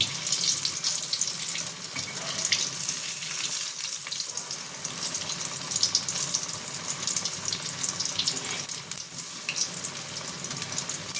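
Eggplant and potato chop fry in a pan, a continuous crackling sizzle with a bright hiss, steady and close throughout without any talk.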